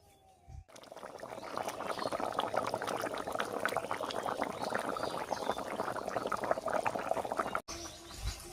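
Water pours into a pan of Bengali fish curry (macher jhol) with sautéed vegetables, a steady quiet splashing and bubbling that runs for several seconds before cutting off, with faint kitchen noise at either end.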